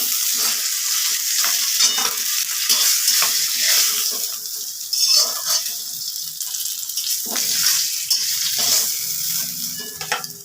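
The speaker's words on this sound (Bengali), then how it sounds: "কড়াতে মেথি ফোড়ন দিয়ে দিয়েছি" Fenugreek seeds temper in hot oil in a wok, giving a bright, close sizzle broken by repeated stirring scrapes and clinks in an uneven rhythm throughout.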